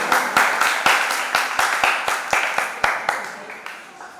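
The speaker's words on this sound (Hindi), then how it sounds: "ताली अच्छे से बताओ, ताली।" A crowd at a Guru Purnima devotional gathering for a Jain monk claps in unison, a steady rhythmic beat of sharp, loud claps about four per second that fades slightly toward the end.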